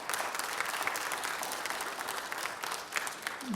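A church congregation claps together, a dense, steady applause filling the room at moderate loudness for the whole stretch, with no voices standing out.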